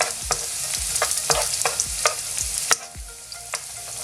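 Finely chopped garlic fries in a pan over a high gas flame, giving a steady bright sizzle broken by regular clacking taps of a utensil stirring, close and alone without any talking.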